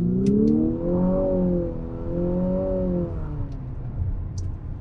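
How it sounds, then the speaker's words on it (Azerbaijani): An Infiniti QX55 engine revs up and eases off twice in smooth, rising and falling sweeps, a close, steady mechanical hum underneath with a few faint clicks, no one speaking. "Mühərrik belə səs eləsin"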